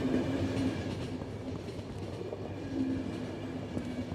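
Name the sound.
train running in The Final Station video game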